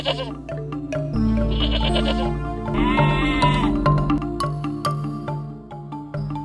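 Goat bleating repeats several times over a steady musical backing in an animated children's story, loud and close, with no talking.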